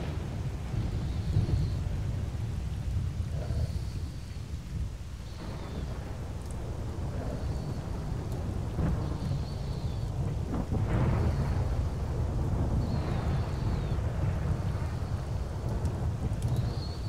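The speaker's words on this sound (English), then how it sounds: "Man, loud thunderstorm." A heavy thunderstorm with steady rain in the Misery video game, with loud rumbling thunder rolling over continuous rainfall throughout, and no voices.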